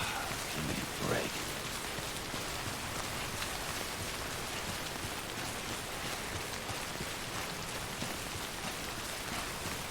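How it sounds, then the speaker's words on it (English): Heavy rain falling in the video game Death Stranding: a dense, steady hiss of raindrops hitting surfaces, constant throughout with no distinct thunder and no talking. "Look at this rain."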